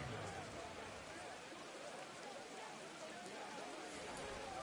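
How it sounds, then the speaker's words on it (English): Heavy rain downpour pours in a football stadium in the Madden video game, a steady hissing wash of rainfall at low level with a faint rumble beneath. "You add in a downpour like we're in right now, it makes it that much harder."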